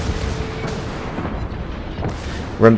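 Secondary guns of a warship in World of Warships fire in quick succession, booming reports over a steady low rumble of battle, with a louder blast near the end.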